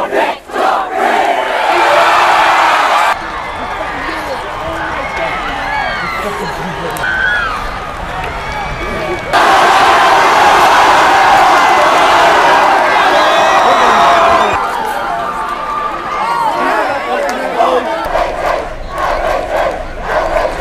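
A crowd of fans at a high school football game between Buckeye Valley and Delaware cheers and yells loudly and continuously, with chanting voices mixed in and the roar swelling in two louder stretches.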